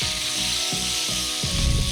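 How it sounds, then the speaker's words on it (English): Caramelized onions coated in pepper sizzle in hot bacon fat in a pan, a steady close crackling hiss with soft scraping pulses from stirring and no talk. "All of that pepper that's on those onions is now sizzling in the bacon fat"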